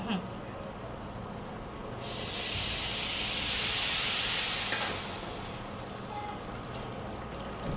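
Water is poured onto salted rice frying in a pot, setting off a loud, steady hiss that swells for about three seconds and then tapers away into a quieter background.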